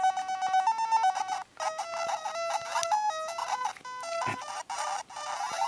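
Pac-Mania game music and effects, roughly emulated on a Pac-Man Pocket Player handheld, play as a continuous harsh chiptune of stepping square-wave melody lines and bleeps with short gaps, loud and without any talk.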